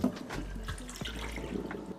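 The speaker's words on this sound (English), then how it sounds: "Rinse with water until the water runs clear." Tap water runs steadily while pork ribs are rinsed in a sink, a quiet continuous splashing with faint handling bumps.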